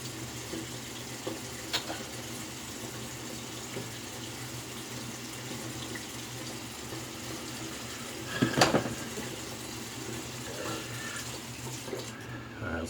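Tap water runs steadily into a sink to warm a Gillette Ball End Tech razor, a soft continuous splashing flow close by, with a brief louder splash and clatter partway through.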